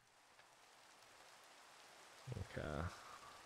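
Steady rain in the video game Minecraft hisses softly and evenly throughout, with a brief spoken word near the end.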